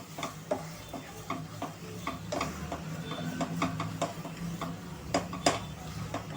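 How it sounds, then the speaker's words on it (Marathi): Paneer ground in a mixer is sautéed in ghee over a medium flame for rasmalai modak, with soft frying and steady spatula scraping and tapping close by. "वाटलेलं पनीर मिक्सरमध्ये जे आपण फिरवून घेतलेलं आहे ते, आणि तुपामध्ये छान असे हे परतून घ्यायचं आहे"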